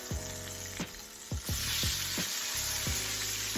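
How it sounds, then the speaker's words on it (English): Onions hit a hot frying pan with smothered chicken drippings, sizzling loudly and close, with several clattering stirs and scrapes against the pan over continuous frying hiss. "So what I'm going to do now, everyone, is add my onions."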